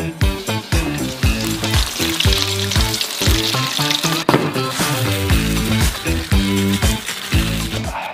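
Crab pieces dipped in fried chicken flour and water sizzle loudly as they hit hot oil, a continuous crackling fry with bubbling pops throughout, close and alone with no talk.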